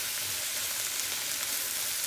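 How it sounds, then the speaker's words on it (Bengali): Shrimp seasoned with cumin fries in a pan with a steady, close sizzling hiss that holds evenly throughout, with no voices. "এরপরে আমরা এটা ভাজতে থাকব।"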